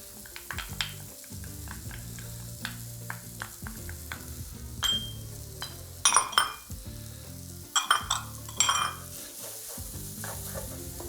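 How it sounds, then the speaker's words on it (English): Shallots sautéing in a pan, a low background sizzle punctuated by repeated clicks and a few louder clusters of utensil scrapes and clinks as they are stirred, close and without voices. "So go ahead and add in our shallots now."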